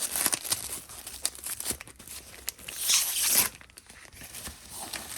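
A knife slicing and tearing through a taped bubble wrap pouch package, with crinkly plastic rustles and scraping cuts up close, louder bursts of tearing midway.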